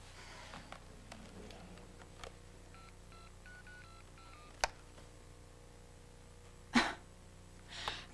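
A sequence of mobile phone keypad tones beeps out a number, quiet and close, with a few soft clicks and rustles around them.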